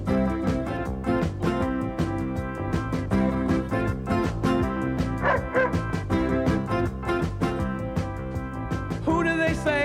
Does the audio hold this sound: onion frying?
no